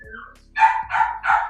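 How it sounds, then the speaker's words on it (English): A dog barks three times in a steady rhythm, each bark loud and close, with a brief quieter sound just before the first. "can you please get that dog out and stop him from barking?"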